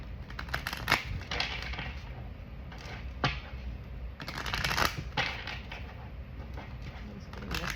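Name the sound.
tarot cards being shuffled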